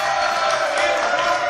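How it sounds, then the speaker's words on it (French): A television studio audience cheers and applauds at a French entertainment news show, a loud, dense burst of crowd noise that holds steady for a moment. "Allez, applaudissements."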